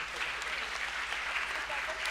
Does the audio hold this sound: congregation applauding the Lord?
yes